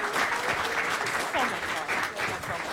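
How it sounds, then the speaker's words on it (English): Brief audience applause at a pitch event, a short burst of steady clapping with voices calling out over it, fairly quiet and roomy. "Give all these folks a round of applause."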